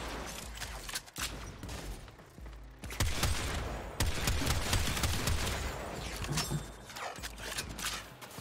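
Gunfire from Warframe, a sci-fi shooter video game, in repeated sharp bursts over busy mechanical combat noise throughout, loud and close.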